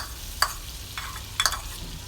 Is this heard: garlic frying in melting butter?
yes